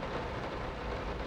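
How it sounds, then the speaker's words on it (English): Steady rain ambience in the horror game Layers of Fear, a continuous broadband patter with low rumble, even and enveloping throughout with no talk. "You hear the rain? Amazing atmosphere."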